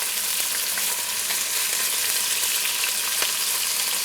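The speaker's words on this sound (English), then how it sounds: "we'll just kind of let that single layer there cook for a bit so we get hopefully a nice char on them" Bell peppers fry in a single layer in a pan over medium-high heat for shakshuka, giving a steady, dense sizzle with a few faint pops and clicks throughout.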